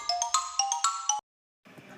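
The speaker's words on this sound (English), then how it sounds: "X for xylophone. phone with sticks. The notes are short and quick." Quick, short bright mallet notes struck on a xylophone, six or seven ringing tones in a lively run, then a sudden stop, a brief silence and a faint soft tail of sound.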